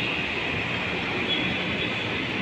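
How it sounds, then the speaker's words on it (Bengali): A metro train runs overhead on an elevated track, a steady, loud rumbling roar of wheels on rails that holds constant throughout, close by and without any voices. "এই উপর দিয়ে ট্রেন যাচ্ছে, এখান দিয়ে যায়, নিচের তলা দিয়েও যায়, এটাকে বলে মেট্রো ট্রেন।"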